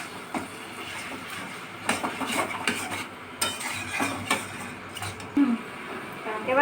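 Spiced meat being sautéed in a pot for biryani, with a spoon scraping and stirring in uneven bursts, clattering softly against the metal at close range and moderate volume.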